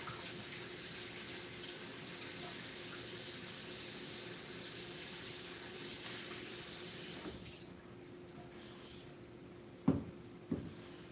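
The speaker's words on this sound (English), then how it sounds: "We're gonna wash this cutting board" A cutting board is rinsed under a running kitchen tap, a steady loud rush of water that stops abruptly partway through, followed by quieter room tone and two sharp knocks near the end.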